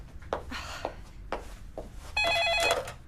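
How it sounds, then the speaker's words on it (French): A telephone in the Titeuf cartoon rings from about 2.2 seconds in: a loud electronic warble that pulses steadily, following short cartoon thuds and clatter. "Téléphone, chérie,"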